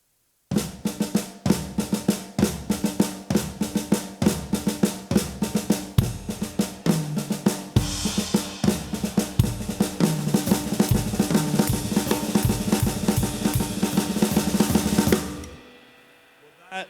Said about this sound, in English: So the classic bluzda sounds kind of like this.